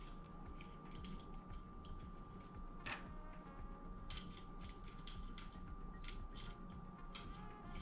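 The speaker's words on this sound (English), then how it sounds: "now we're gonna put in our little screws." Small screws are turned into a Levitate prosthetic blade kit, producing soft close clicking and ratcheting mechanical ticks in irregular rhythm, quiet throughout with no talk.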